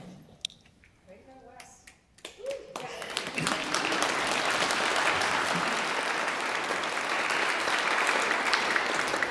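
A few scattered taps and noises give way, after about two seconds, to full, sustained audience applause at a celebration of a life in art and music, steady and fairly close.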